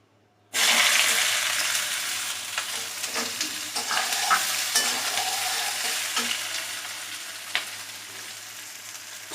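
Dried red chillies, a bay leaf and chopped onion frying in hot oil, a steady close sizzle with scattered crackles and occasional stirring clinks, running alone after a quiet start.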